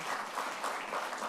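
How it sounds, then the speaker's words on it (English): A live audience claps together in a dense, steady round of applause at a Union Budget 2023-24 impact analysis talk. The clapping is fairly close and sustained, with no voices over it. "let us have a big round of applause for our speaker"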